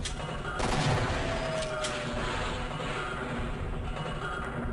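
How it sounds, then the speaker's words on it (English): Shotgun fire against turrets in Half-Life: a loud burst of shots near the start trailing into a dense, continuous rattle of gunfire and noisy game ambience. "So, I'll take care of them with the shotgun."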